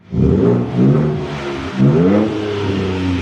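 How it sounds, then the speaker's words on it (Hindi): A 2022 Ford Ranger Raptor pickup, 400 hp, in Baja mode, revving its engine in two or three close, loud surges with a throaty exhaust rumble, no voices. "और लास्ट में हम आते हैं इसके बाहा मोड की तरफ, और ये है इसके बाहा मोड की साउंड नोट।"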